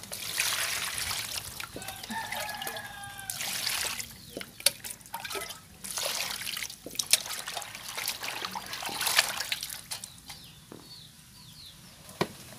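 Water trickling and splashing close by as ingredients for vegetarian chả lụa are rinsed, with intermittent drips, clatter and handling noises.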